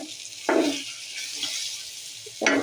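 Pointed gourd (potol) fries in a pan, a steady sizzle broken by two louder bursts of scraping as the slices are stirred; no voices.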